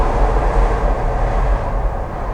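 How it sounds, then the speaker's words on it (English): The elevated L train in Philadelphia rumbles past nearby as a loud, steady roar of wheels on track, with no talking. "train, the L."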